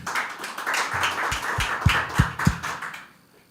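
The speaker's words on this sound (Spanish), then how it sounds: "muchas gracias, un aplauso para don Jaime." A handful of sharp handclaps at a round-table panel, a small burst of applause that quickly dies away to quiet.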